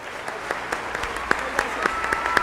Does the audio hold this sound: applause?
yes